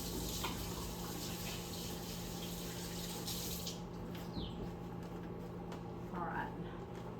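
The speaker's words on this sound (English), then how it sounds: "Let me wash my hands." Running water from a kitchen tap while hands are washed, a steady broadband rush that continues throughout, close by, with a few faint clinks partway through.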